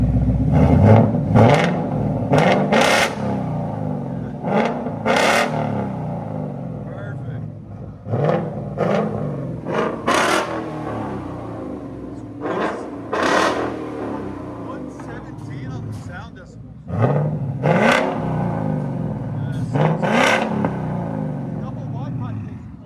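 Straight-piped 2020 Ford Mustang GT with a 5.0L V8 and double helix exhaust revs repeatedly up close, loud bursts rising and falling in several blips, with people talking over and between the revs.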